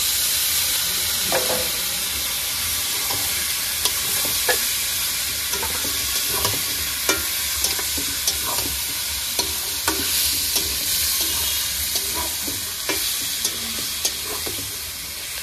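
Pork pieces fry in spiced oil with a constant loud hiss and sizzle, while a spoon stirs them in frequent short scrapes, close up and without speech.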